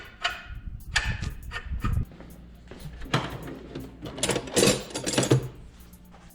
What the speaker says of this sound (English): So let's run this die on here, maybe down about a 1/2 inch or so.